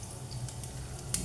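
Fenugreek and mustard seeds sizzle in hot oil, a faint, steady crackle with scattered small pops, heard close with no talk.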